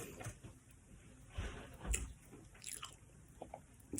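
Close crunching bites and chewing of crisp food, a few distinct crunches spread over a quiet background.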